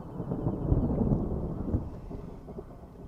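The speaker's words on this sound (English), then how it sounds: "I see more storms approaching that will bring heavier rains" Thunder from an approaching storm rolls over an African plain as a deep, continuous rumble that swells and slowly fades, with a faint wash of rain or wind and no voices.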